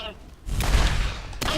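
Video game gunfire from Borderlands, Claptrap's New Robot Revolution final boss fight: quiet at first, then a loud dense burst of shots and booms from about half a second, with a short break before another loud burst. Speech-like game chatter overlaps.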